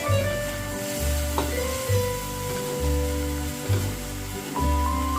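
Steady crackling sizzle of aubergine and egg frying in a hot pan, with periodic low thumps and scraping as the food is stirred, no voices.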